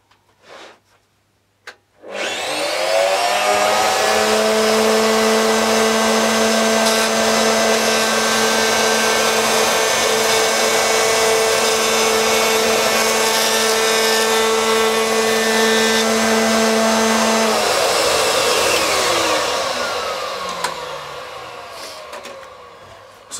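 A router mounted in a Mast-R-Lift spins up to a loud, steady high whine while cutting a rabbet in wood, holding for about fifteen seconds before winding down, close by with no talk.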